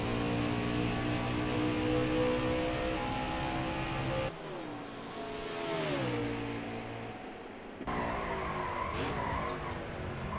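NASCAR Xfinity race cars in a racing video game at Road America, a loud constant engine roar with shifting revs and downshifts, tire skids and passing cars, with no talking.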